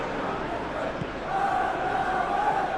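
Stadium crowd at a Manchester City vs Arsenal Premier League football match, a steady wash of applause and cheering that swells slightly partway through, with a voice faintly present.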